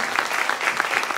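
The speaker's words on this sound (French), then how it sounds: "applaudissez-les encore un peu plus fort" An audience applauds loudly at a youth short-film awards ceremony after a Sister Act musical excerpt, with brisk, continuous clapping from a large crowd throughout the short moment.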